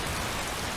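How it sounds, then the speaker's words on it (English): Steady, even rain hiss falls without a break in the fantasy video game Skyrim, a soft, dense wash of drops with no voices over it. "Oh, I love the rain."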